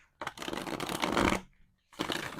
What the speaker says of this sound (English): So I'm just giving this a quick shuffle.